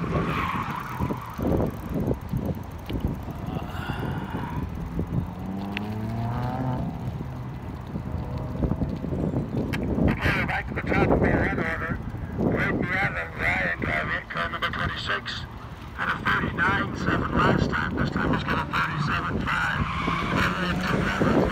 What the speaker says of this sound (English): drifting, car drifting. Oh, guys, car drifting.